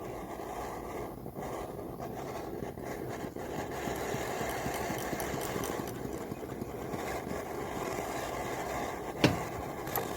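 A small flame licker (gulper) model engine runs steadily, with a faint, even chugging under soft background hiss and a single sharp click near the end.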